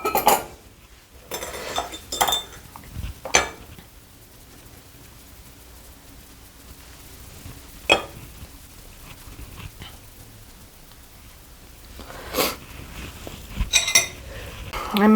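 A metal spoon clinks lightly now and then against a glass jar holding plantain and calendula oil salve, with scattered soft taps and scraping between the clinks.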